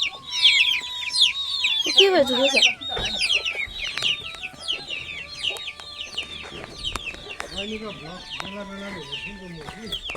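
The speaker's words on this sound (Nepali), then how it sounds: "चल्लाहरू" Chickens cluck and chicks cheep in a busy, close chorus in a Kalimpong village, with a person speaking briefly over the birds.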